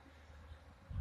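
Honeybees hum around hives in an apiary in April, a low continuous buzz close by, growing louder for a moment at the end.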